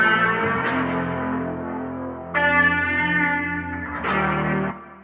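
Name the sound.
electric guitar loop with effects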